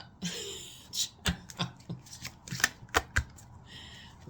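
A tarot deck shuffled and cards drawn: a string of crisp, close card slaps and flicks, about a dozen uneven strokes that bunch together toward the end, with no talking.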